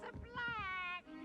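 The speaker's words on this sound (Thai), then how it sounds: "แมว" A cat in the video game Hogwarts Legacy gives one clear, drawn-out meow, close and fairly loud, preceded by brief muffled sounds.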